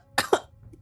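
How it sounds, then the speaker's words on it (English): A single short cough in two quick close bursts, dry and distinct against near silence. "She coughs a little blood."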